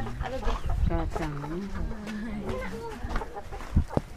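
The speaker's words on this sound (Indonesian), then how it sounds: "ini jenis ayam yang kita pelihara dan setiap hari hampir bertelur" Javanese laying hens on a small farm cluck in short, uneven bursts at close range, with voices talking over and between them.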